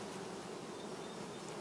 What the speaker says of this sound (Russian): У нас здесь в поле есть обычная местная пчела.